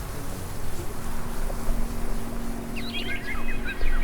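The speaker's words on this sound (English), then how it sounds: "As you hear the birds chirp" Birds chirp outdoors after rain: a quick cluster of short, high tweets rises near the end over a steady low background hum, with no one talking.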